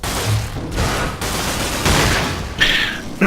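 Short bursts of gunfire from a weapon in the roguelike space game Cryptark, several loud, rapid volleys spread across the moment with heavy mechanical boom and no talking over them.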